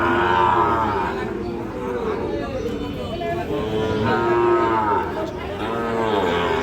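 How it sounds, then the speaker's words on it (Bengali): Sahiwal cattle mooing at a busy Friday cattle market in Ambari, long lowing calls rising and falling close by over a steady hubbub of crowd chatter, with people talking throughout. "দর্শক এই গরুটি দেখেন"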